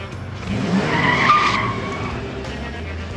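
A car brakes hard in an action scene, and its tires skid in one loud screech that swells and then fades, with low road rumble beneath.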